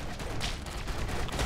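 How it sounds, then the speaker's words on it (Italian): Cannons fire in the tower-defence video game Defend Your Life, a dense burst of rapid overlapping shots and impacts at moderate loudness, with no speech during it. "Le mettiamo un cannone lì."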